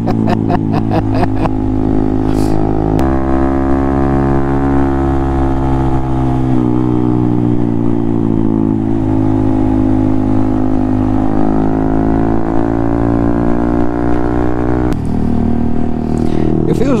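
A Honda Monkey 125 motorcycle, a 2019 model carrying a rider of about 90 kilos, runs steadily along a road with a continuous, loud engine drone and shifting revs throughout.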